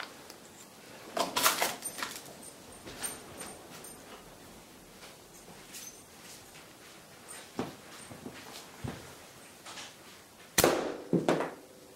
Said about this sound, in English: let me take a shot, just so you'll see how that one works